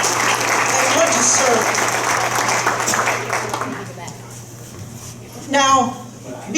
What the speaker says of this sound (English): So if you would just give a round of applause for our representatives who have come out and want to